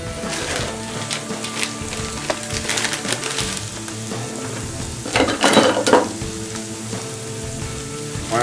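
Chopped onions for venison meatballs sizzle steadily in a hot frying pan, a close, continuous crackle with occasional louder spits and faint stirring clinks.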